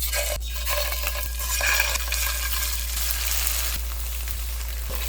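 Tofu frying in a spoonful of cooking oil in a pan: close, steady sizzle and crackle with occasional light clinks of a utensil against the pan, over a low electrical hum.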